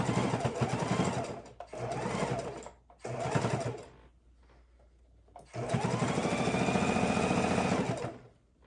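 Close, steady whirring of a sewing machine top stitching a fabric soup bowl cozy, running in three bursts with short pauses and a quiet gap before the longest, even final run.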